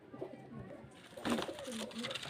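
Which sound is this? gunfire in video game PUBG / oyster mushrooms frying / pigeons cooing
pigeons cooing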